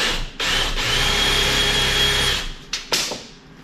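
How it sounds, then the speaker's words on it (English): Power drill boring a hole through metal for a hidden winch mount on a Toyota Land Cruiser 200 series, a loud sustained whir for about two seconds followed by a couple of short bursts as it stops and restarts. "I already started drilling the hole."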